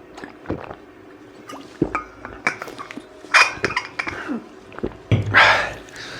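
Drinking water is handled and poured nearby: scattered clinks and knocks of a vessel or glass, then a brief noisy splash of liquid near the end, all fairly close with no talk.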